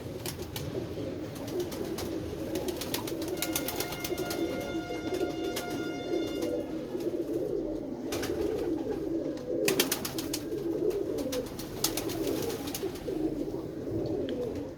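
Doves cooing amid other birds outdoors in the countryside, a steady bed of mixed bird calls with soft repeated coos running throughout at moderate distance, no speech.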